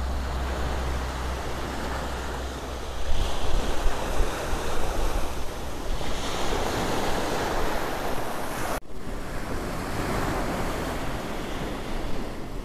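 Sea waves wash and crash against coastal rocks along an Iranian shore, a loud continuous surging roar with swells rising and falling, buffeted by wind noise on the microphone.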